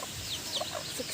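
A small mother hen clucks near her chicks on a chicken farm, giving a few soft, short clucks over a steady, noisy background.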